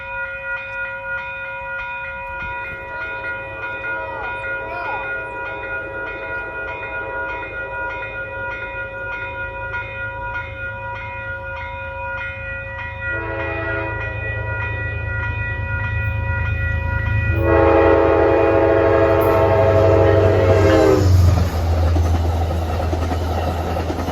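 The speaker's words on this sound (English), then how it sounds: "the Poughkeepsie equipment train with the 211 New York Central Heritage Unit" A Metro-North equipment train led by a New York Central heritage locomotive passes on the Hudson line, its steady rumble swelling as it nears, with a horn sounding and wheels clattering loudly near the end.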